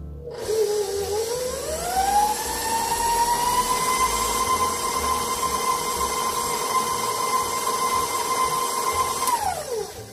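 Electric mixer whirring steadily in lemon poppy seed cake batter, rising in pitch as it spins up, then holding a loud, even motor whine for several seconds before winding down at the end.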